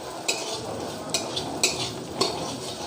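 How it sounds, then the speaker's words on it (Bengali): Rice grains stir-fried in a pan with spices, giving a steady close sizzle broken by a few sharp spatula scrapes against the pan about every second. "চালগুলো ভালো করে ভাজতে লাগবে লাল লাল করে।"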